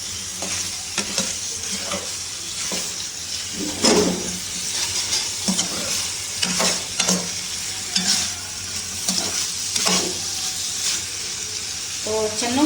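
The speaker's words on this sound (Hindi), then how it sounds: "अब इसको मसालों के साथ अच्छी तरह से मिक्स करेंगे" Boiled chickpeas being stirred with spices in a pan for Afghan-style chole, giving repeated scraping stir strokes over a steady frying sizzle, loud and close, with no talking.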